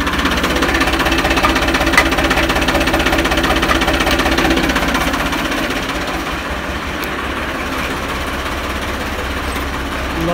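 A Ford 3600 tractor engine, restarted after six months of sitting, runs loud and close with a rough, knocking idle rhythm that eases slightly partway through. There is no talk.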